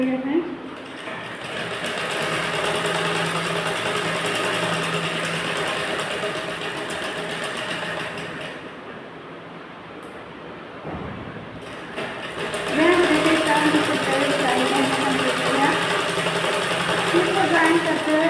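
A sewing machine stitches a round karori blouse at the shoulder seam, running in a steady, close mechanical whir that pauses briefly mid-way before resuming louder.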